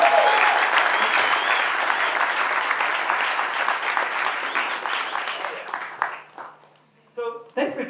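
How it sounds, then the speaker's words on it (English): A studio audience gives a loud, sustained round of applause welcoming guests onto a talk show, the clapping slowly thinning out and fading toward the end before a voice begins speaking. "Come on, give a round of applause."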